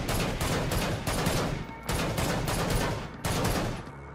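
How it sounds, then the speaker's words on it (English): Rapid bursts of automatic gunfire from Killing Floor 2 ring out loud and close, three long volleys separated by brief breaks, each crackling with dense, punchy shots. "I'm going to show a clip of someone shooting a gun"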